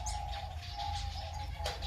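Caged birds chirp and coo close by, with a steady high tone running through and a sharp tweet near the end, no talking.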